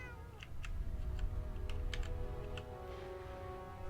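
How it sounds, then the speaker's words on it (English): A cat meowing in Fallout 4, faint short mews over a steady low game ambience with a quiet hum and scattered soft ticks, no talking. "Look at that little kitty cat."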